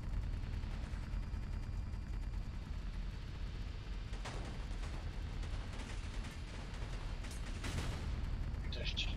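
Gunfire in a multiplayer video game against aggressive NPCs comes in short bursts of shots over a constant rumbling din, with voices in the mix.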